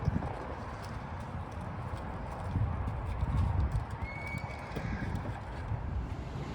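Horse hooves clip-clop steadily while a horse is ridden at a Los Angeles equestrian center sheltering horses evacuated from California fires, with a brief whinny and light wind noise over the mid-distance footfalls.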